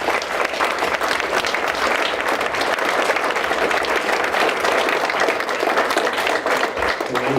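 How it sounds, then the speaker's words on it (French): Loud, dense applause from an audience at an awards ceremony honoring employees, steady clapping filling the whole stretch without a pause, close and energetic. "je demande une bonne main d'applaudissement pour les employés qui travaillent"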